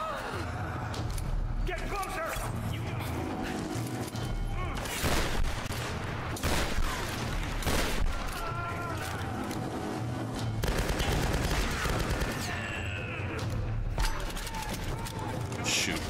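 Bursts of automatic gunfire from old guns in Tomb Raider Definitive Edition's close-quarters combat at a research base, repeated rapid volleys over game music and effects, with someone talking at times.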